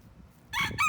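A Sebright bantam rooster crows close by on a cold morning, a single short, bright call that breaks in after a quiet moment and rises in two bursts.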